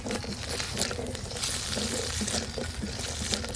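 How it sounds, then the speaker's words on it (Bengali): Cashews and raisins fry in ghee in a kadai over a very low flame, a steady crackling sizzle with occasional stirring scrapes and no talk. "চুলোর আঁচ একেবারে কমিয়ে দিয়ে কিশমিশ আর কাজুটা ভেজে নিচ্ছি"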